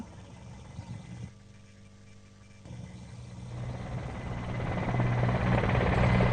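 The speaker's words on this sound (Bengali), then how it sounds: "প্রথম এমআই সেভেন্টিন হেলিকপ্টার বহন করছে বাংলাদেশের জাতীয় পতাকা" An Mi-17 helicopter's engine drones during a Victory Day flypast, dips briefly, then swells steadily louder as it draws nearer, its low rotor hum growing toward the end.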